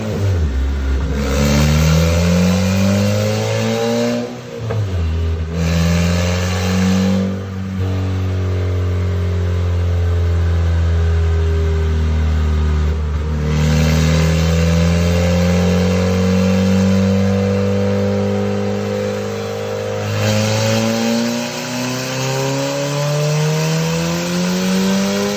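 A Porsche 911, its stock M96 engine replaced by a Honda K-series swap, revs hard on a dyno. The engine note climbs through long, loud, sustained pulls with a few brief dips, close up and without talk.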